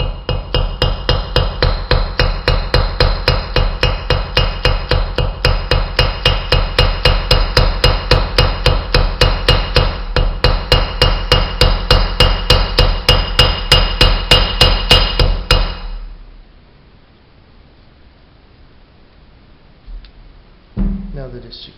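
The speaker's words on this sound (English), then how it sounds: "Just take the hammer." A hammer peens a small part into a homemade snake-action bass lure, striking in a fast, steady run of sharp metallic taps for about fifteen seconds before stopping, then one louder knock near the end.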